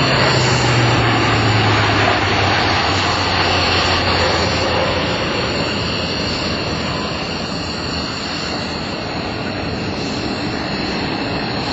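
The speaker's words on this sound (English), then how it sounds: "the C-130 is one of the most distinctive shapes of the air and a true workhorse for the military" A C-130J-30 Hercules turboprop aircraft flies a demonstration at an airshow, its engines producing a loud, steady, sustained drone with a low humming tone that slowly shifts as it passes.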